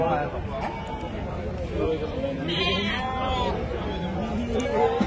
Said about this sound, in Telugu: మేకలు చూద్దామండి. 7 ఉన్నాయి మేకల.